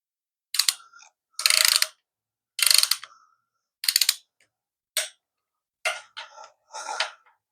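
A torque wrench ratchets on exhaust manifold bolts in about eight short close clicking bursts, separated by brief silences, with no talking.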